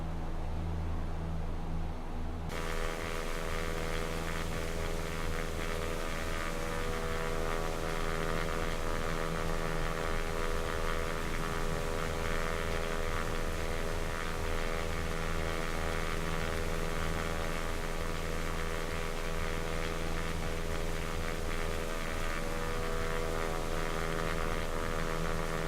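A Cessna 172 floatplane taxiing on water in X-Plane 11, its engine droning steadily and loudly with a constant harmonic hum and propeller buzz that rises just after the start and then holds unbroken throughout.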